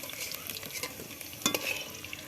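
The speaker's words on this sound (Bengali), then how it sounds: "তার কিছুক্ষণ পরে আবার ফুলকপিগুলো ওই তেলে দিয়ে দিলাম" Potatoes and cauliflower frying in hot oil give off a steady close hiss and sizzle, with one brief sharper clatter of stirring midway through.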